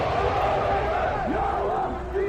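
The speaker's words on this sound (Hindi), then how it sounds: "नारे और तेज हो गए।" A large crowd at an airport arrival chants slogans loudly, a dense roar of many voices with rising shouted inflections filling the whole short stretch.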